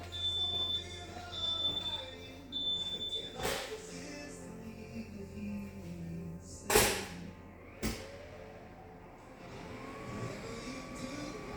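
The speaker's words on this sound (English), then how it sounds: "my oven is beeping" A kitchen oven beeping, with a short series of repeated high electronic tones at the start, followed by clatter and background noise.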